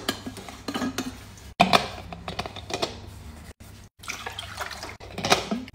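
Water poured from a drinking bottle over a mango drink capsule, heard as irregular splashes and clinks, with a few brief drops of near silence between the bursts.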